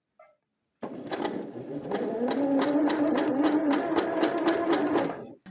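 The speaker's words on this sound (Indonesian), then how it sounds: "Kemudian kita jahit mengikuti garis." A sewing machine fitted with a free-motion foot stitches along a marked line, one steady rapid mechanical run of needle strokes lasting about four and a half seconds after a short silence.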